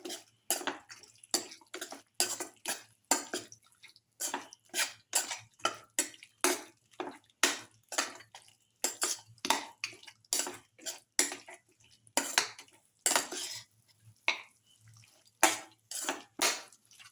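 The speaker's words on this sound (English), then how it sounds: "thoroughly mixing the ground basil, the rest of the mixture, and the mutton pieces, the lamb pieces." Garlic basil lamb casserole ingredients being stirred in a pot, ground basil mixture and lamb pieces turned over with a utensil in repeated wet, squelching strokes with scraping clinks against the pot, close and moderately quiet, no talk.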